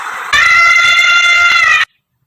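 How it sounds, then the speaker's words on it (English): An elephant lets out one loud, brassy trumpet call of about a second and a half, sounding near and alone, then it stops sharply. "E for elephant,"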